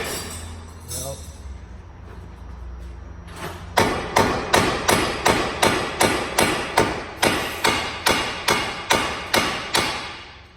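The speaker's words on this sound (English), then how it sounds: "Bigger hammer." Repeated heavy hammer strikes drive a CV axle into place on the right front of a 2007 Ford Fusion, about a dozen sharp metallic blows in a steady rhythm after a few seconds of quieter shop noise and brief talk.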